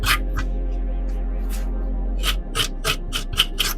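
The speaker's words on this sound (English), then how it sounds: "Sanding on metal." Sanding and scraping on a metal part inside a Nintendo GameCube during repair work, a series of sharp rhythmic rasping strokes, close and fairly loud, quickening toward the end with no talking.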